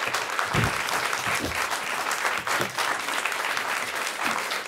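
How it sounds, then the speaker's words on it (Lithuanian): Sustained applause from a studio audience on a Lithuanian evening talk show greets Prime Minister Ingrida Šimonytė, a full, even roar of many hands clapping close by with no voices over it. "Seniai tiek plojimų turbūt nesat girdėjus"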